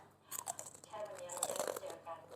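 Crispy pork rinds being bitten and chewed close up, a series of sharp crunches and crackles with quieter chewing between them, mixed with murmured sounds from the eater.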